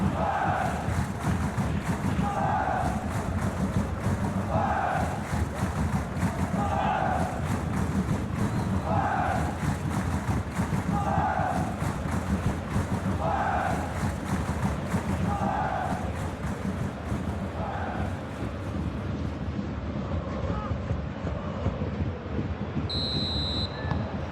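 A stadium crowd in the eFootball video game keeps up a constant roar, with rhythmic chanting swells that pulse every couple of seconds, heard near and steady throughout.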